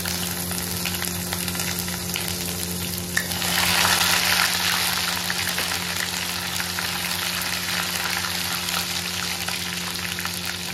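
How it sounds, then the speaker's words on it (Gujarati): Garlic, ginger and chili paste sizzling and frying in a hot pan for Kashmiri dum aloo, a steady close crackle that swells louder partway through as the paste is stirred, over a faint background hum. "પછી તેમાં આપણે લસણ આદુ મરચાં જે પેસ્ટ કરી દીધી તે એડ કરી દેશું."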